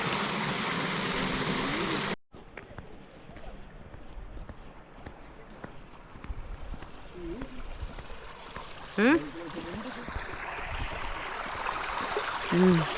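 Steady rushing of water flowing hard, a constant broadband roar throughout, with a brief louder splash partway and faint voices in the background.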